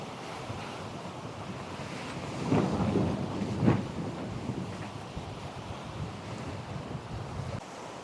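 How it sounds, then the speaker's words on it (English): Heavy rain pours down on a Neel 51 sailing trimaran during an Atlantic crossing, a dense continuous hiss blended with wind and sea noise, swelling in a louder gust around the middle. "Another nice example of rain."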